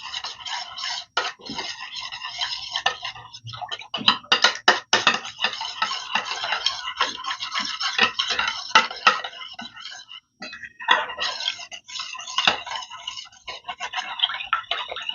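Eggs seasoned with black pepper and mixed herbs are beaten briskly in a bowl, a steady stream of fast, close clicking and scraping that runs continuously with brief pauses.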